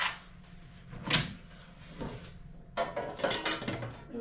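A drawer is pulled out of a cooking appliance during cake baking: a sharp scrape near the start, a soft knock, then a longer run of clattering and sliding rattles, close and moderately loud.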